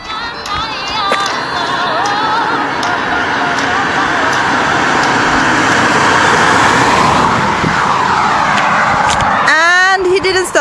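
A car approaches and passes along a roadside, its engine and tyre noise swelling loudly over wind and rustling, with people talking nearby throughout.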